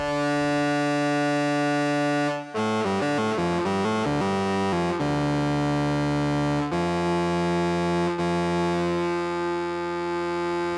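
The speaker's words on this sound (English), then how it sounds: "Let's give that a little bit of reverb delay too." A sustained, buzzy synthesizer tone shifts through a run of stepping notes, then holds long chords that ring out with a lingering, echoing wash.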